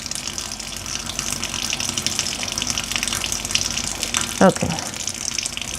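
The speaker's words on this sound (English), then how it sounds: "I have the cold water running because I am emptying the hot water down the drain." Cold tap water runs steadily into a kitchen sink drain, a continuous close rushing wash that lasts throughout, with a short voice breaking in briefly near the end.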